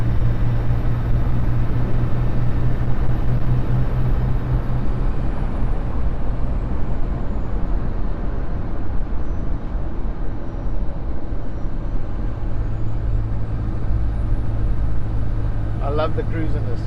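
A Toyota Hilux pickup accelerates at about half throttle, its engine droning steadily from inside the cabin under continuous road noise, while people talk over it.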